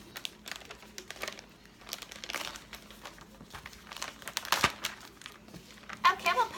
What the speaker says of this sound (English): now in the Ziploc bag, I just tear the sides